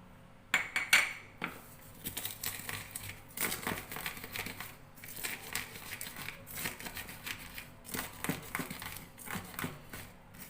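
Peanuts are dropped into a stone mortar and ground with a pestle, quiet scraping, crunching and knocking strokes repeating steadily at low volume, with no one talking.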